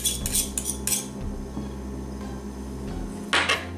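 Metal spoons and cutlery clatter in a home kitchen, several sharp clinks and rattles at the start, a quieter stretch, then another burst of jangling near the end, with no talk.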